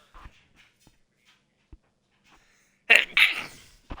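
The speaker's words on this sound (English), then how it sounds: "Give me a second. I got to sneeze." A single loud, close sneeze bursts out after a few soft breaths and small sounds, followed by a brief exhale.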